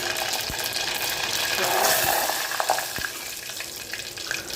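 Mustard seeds fry in a clay pot, giving a steady crackling sizzle with faint spits and pops over a few seconds, close and moderately loud.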